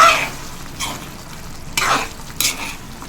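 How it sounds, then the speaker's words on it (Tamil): Chicken in a yogurt-based green gravy gets stirred in a pan, giving a few close scraping strokes over a soft, steady sizzle of frying. "தயிர் ஊற்றி நல்லா மிக்ஸ் பண்ணிவிட்டு வேக விடணும்."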